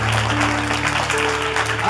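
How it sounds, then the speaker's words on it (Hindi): Church congregation clapping during a sermon, with a steady wash of applause mixed with a sustained tonal hum in the background. "और जरा जोर से तालियां बजाइए।"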